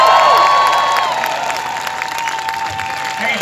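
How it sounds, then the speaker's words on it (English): Crowd applause and cheering at a protest march in Dublin city centre, steady loud clapping with a tonal whine or feedback running through it, fading slightly over a few seconds. "give another big round of applause, please"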